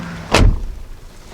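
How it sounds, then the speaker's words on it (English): A 2019 Mercedes-AMG G63 wagon's door slams shut once, close by, with a heavy, solid low thud and a short metallic latch snap, then quiet. "And then we'll listen to this door."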